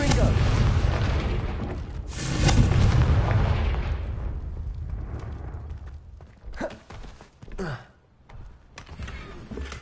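A Confringo fire spell bursts in Hogwarts Legacy, a loud booming blast that swells around the second mark and rumbles away, followed by scattered sharp magical cracks and whooshes near the end.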